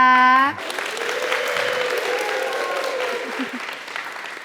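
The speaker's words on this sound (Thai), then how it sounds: "ขอเสียงปรบมือให้กับคู่บ่าวสาวของเราด้วยนะคะ" Wedding guests applaud the bride and groom after a brief sustained tone, with a steady wash of clapping from a small crowd and a voice speaking over it toward the end.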